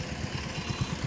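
A car engine idles in a low, steady rumble with faint rhythmic pulsing while reversing slowly into a garage during a driving lesson; no one speaks.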